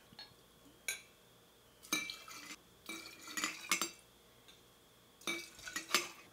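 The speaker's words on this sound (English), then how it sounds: "Now let's add some vodka." Vodka being added to jalapeno pieces in an iSi whipper, heard as scattered clinks, taps and clattering handling sounds in short bursts with quiet gaps between them.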